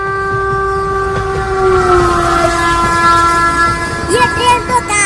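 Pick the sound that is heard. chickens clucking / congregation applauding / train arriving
train arriving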